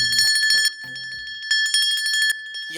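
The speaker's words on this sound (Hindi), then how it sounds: "यकीन ना हो तो मैं घंटी बजाता हूँ ना" A temple bell rung several times in quick succession, its bright metallic ring sustaining steadily under rhythmic sounds in the background.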